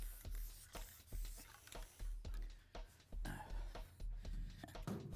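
Quick bursts of fast-drying black non-building guide coat paint spattered from a spray can, a dozen or so short hissing puffs in an irregular rhythm, close and moderately loud with brief pauses between them.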